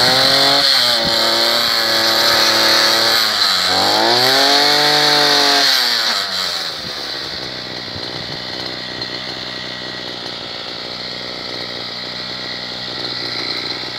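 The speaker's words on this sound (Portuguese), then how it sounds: "Roçadeira costal." A 52cc backpack brush cutter runs at high revs, a loud buzzing whine that dips and rises with the throttle, then settles into a lower steady idle for the rest of the clip with no talking.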